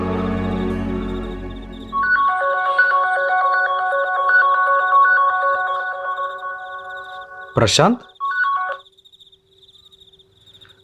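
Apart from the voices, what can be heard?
phone ringtone ringing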